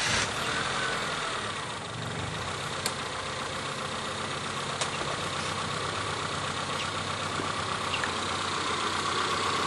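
Car engine idling after a throttle body cleaning, a steady even hum with no surges or misfires, constant level throughout, near the mic, no talking.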